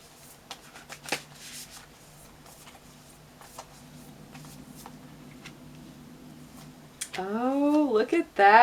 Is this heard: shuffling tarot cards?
yes